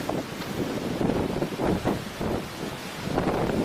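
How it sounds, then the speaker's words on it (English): Hurricane Charley's eye wall wind roaring at gusts above 120 miles an hour, a continuous loud rushing buffet with surging gusts battering close to the microphone, no voices. "We got the eye wall moving in. Wind's gusting probably over 120,"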